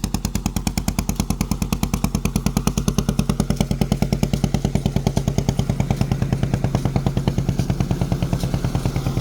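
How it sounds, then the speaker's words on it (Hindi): A village tube well pump engine runs steadily at close range, giving a loud, fast, even chugging beat with no pauses and no voices. "और ये देखें ये वाला जो ट्यूबवेल है ये चल रहा है"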